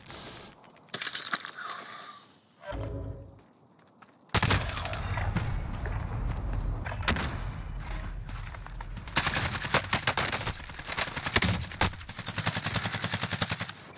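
Gunfire from the video game Call of Duty Warzone in Verdansk: after a quiet stretch with a few clicks, loud rapid automatic bursts and repeated shots follow in quick succession, close and dense, with mechanical clatter between them.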